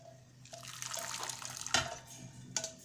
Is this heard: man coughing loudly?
no